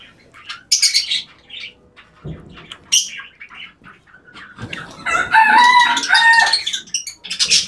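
A broody hen being set on fifteen eggs clucks in scattered short bursts mixed with sharper chirps, building to a louder, denser run of calls near the end, close to the listener.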